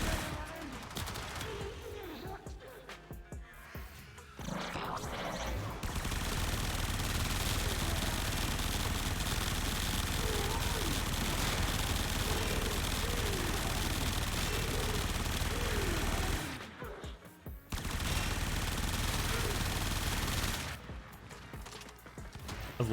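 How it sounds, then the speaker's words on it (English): Repeated shots from the Lanka sniper rifle in the game Warframe, a steady stream of weapon fire and impacts under a noisy mix, with brief gaps; quiet speech occasionally in the background. "I'm shooting the Lanka into it"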